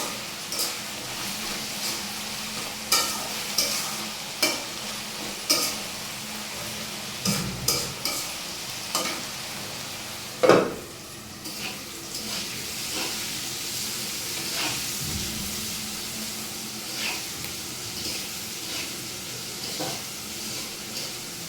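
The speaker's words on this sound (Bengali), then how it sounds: "এটা মাঝে মাঝে নাড়াচাড়া দিতে হবে।" Spinach, soybean and potato vegetables fry in a pan with a steady close sizzle and hiss, while a spatula taps and scrapes at irregular intervals, with no talking.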